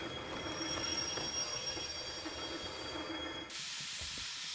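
An S282 steam locomotive in the video game Derail Valley grinds along with a thin, high metallic squeal from an unlubricated part ringing over steady hissing and rumbling machinery.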